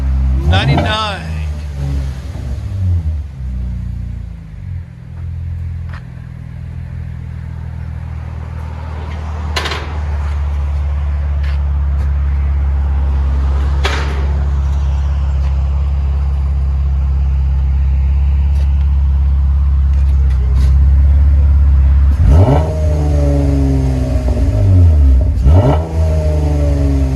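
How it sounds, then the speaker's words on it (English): A Chevy Impala's 3.6L V6 runs with its muffler and resonator removed, revving sharply and then holding a loud, droning rumble before another burst of revs; people talk over it. "This is after a muffler delete and a resonator delete."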